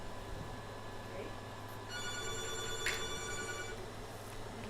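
A telephone rings for an incoming caller on a live call-in bingo show, a short electronic ring burst heard faintly over a quiet room background with low hum.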